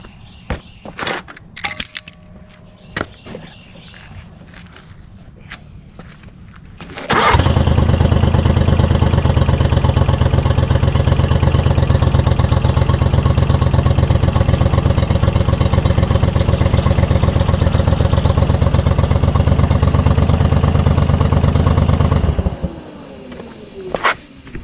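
A Dingo TX420 compact utility loader's engine starts abruptly after some faint clattering and handling noise. It then runs loud and steady at a constant idle for about fifteen seconds before cutting off.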